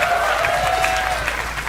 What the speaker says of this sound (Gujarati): સૌમ્ય જોશી માટે પણ તાળીઓ થઈ જાય એવરીબડી